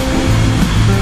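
Calm sea waves washing onto a shore make a steady, broad rushing wash that stays loud and continuous throughout, with no voices.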